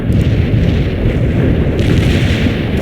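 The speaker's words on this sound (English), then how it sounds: "enemy artillery strike on the way" Video game artillery strike explosions make a loud, continuous deep rumble of blasts that fills the whole moment, heavy and booming without breaks.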